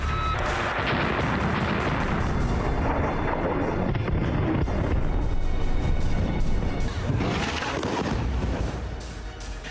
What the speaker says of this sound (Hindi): दिन हो या रात, हर दिन लेबनान में हजारों टन बम बरस रहे हैं।